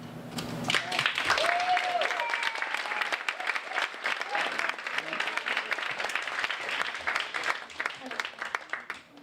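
Audience applause at a county supervisor candidate forum, sustained clapping over the full stretch with a few voices calling out, fairly close and loud, tapering slightly toward the end.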